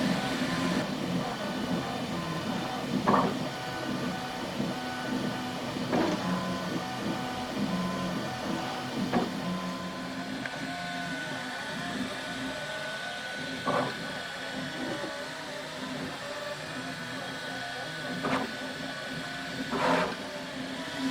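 A 3D printer works on a frame for faux stained glass, its motors whirring in a steady hum with repeated brief buzzing sweeps as the head moves back and forth.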